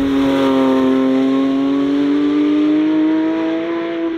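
A Porsche 911 GT3 70 Years edition's naturally aspirated engine accelerates, its loud, close tone rising smoothly and steadily through the revs before easing off slightly at the end.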